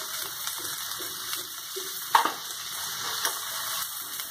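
Onion, carrot and mustard seeds sizzling in hot oil, a soft steady hiss with occasional sharper crackles and pops, fairly quiet and close.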